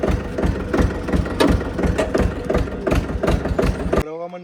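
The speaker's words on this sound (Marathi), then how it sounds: "ट्रॅक्टरने आम्ही फवारतो बरं का." A tractor used for spraying in a pomegranate orchard idles with a low, pulsing engine throb that runs steadily, while a voice talks over it.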